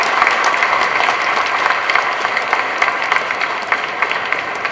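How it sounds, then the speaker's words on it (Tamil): A stage event audience bursts into sustained applause to welcome guests, dense steady clapping from a large crowd lasting throughout, loud and close with no voices over it. "நம்மளோட சார்பாக பெரிய கைத்தட்டலோட உற்சாகத்தோட இங்க வந்திருக்கவங்க எல்லாரையும் வரவேற்போம்."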